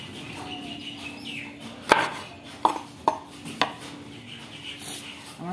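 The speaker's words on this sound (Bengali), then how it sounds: "আমি মূলোও কেটে নেব।" A knife chops radish and other vegetables on a cutting board, giving four distinct sharp knocks spaced irregularly over a quiet kitchen background with a faint steady hum.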